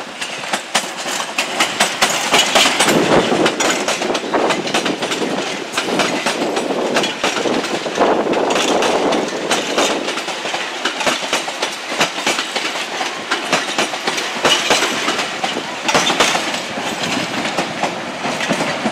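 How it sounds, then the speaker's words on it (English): London Underground trains rumble and rattle past at close range, steady clickety-clack of wheels on rails filling the whole stretch, loud and continuous. "you can see the underground trains are here as well."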